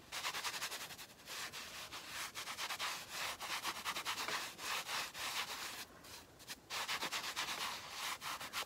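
Finish is rubbed by hand into a primitive pear and crow bowl filler, giving a steady close scrubbing, sanding-like rasp in quick rhythmic strokes that continues almost without pause, with a couple of brief breaks.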